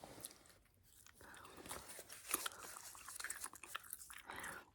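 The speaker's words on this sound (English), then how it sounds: "So first I'm going to go ahead and start chewing some gum." Gum chewed close to the microphone in a soft-spoken setting, with wet, sticky smacks and small crunchy bites in an irregular rhythm, quiet and intimate with no talking.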